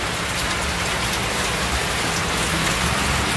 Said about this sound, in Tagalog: 4 days nang inuulan tayo dito sa atin.